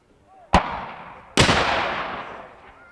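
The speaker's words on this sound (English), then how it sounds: "Cannon shots, gunfire, wartime hurrahs." Two sharp, loud cannon or gun blasts ring out at a Battle of Prairie Grove Civil War reenactment, each followed by a long rolling echo, the second blast larger and decaying slowly.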